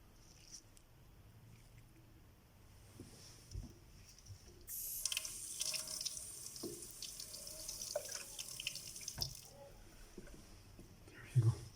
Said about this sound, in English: Then what we do is to rinse.